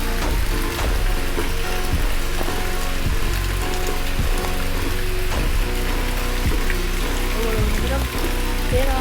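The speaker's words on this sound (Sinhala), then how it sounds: "වැස්ස වහනවා" Rain pours down on a rainy day at home, a dense, continuous patter and hiss with scattered sharper ticks and drips against surfaces, steady throughout and fairly loud.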